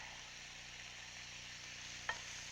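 Food frying and sizzling at high heat in a pan: a constant hissing sizzle runs steadily throughout at moderate level, with one brief sharp clink near the end.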